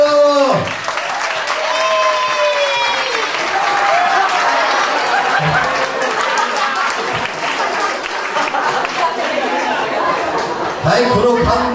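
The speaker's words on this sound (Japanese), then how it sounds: "最後の拍手を" Steady audience applause with cheering and crowd chatter follows a salsa pair dance contest final, filling the room loudly from start to finish.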